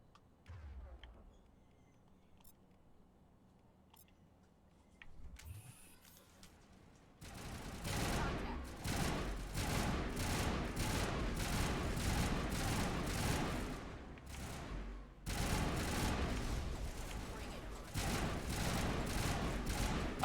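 Turrets fire in the Mass Effect video game, with dense, rapid gunfire that breaks out after a quieter opening and keeps going through most of the clip, briefly easing once before resuming.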